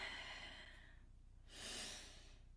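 A single deep breath taken near the microphone, a long soft airy exhale followed by a quieter pause and another breathy swell, alone with no talk.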